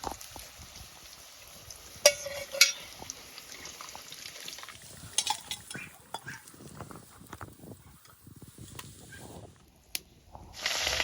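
Fish pieces for an old Kashmiri-style recipe frying in hot oil, a steady sizzle broken by a few sharp crackles and spits, with stirring noises and a voice speaking quietly at times.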